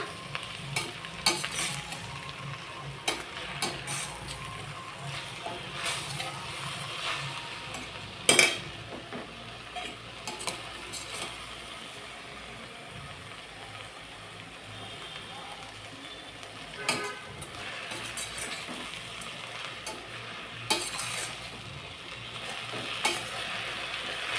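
Spinach stir-fried in a pan for a Tamil keerai poriyal, with continuous sizzling and frequent scraping, stirring knocks from a utensil against the pan, and one sharp clank near the middle.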